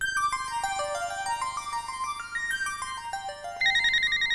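An incoming call ringtone on an Ericsson GH198 mobile phone, a loud electronic melody of quick stepping beeps that rises to a brighter, sharper tone near the end, heard alone.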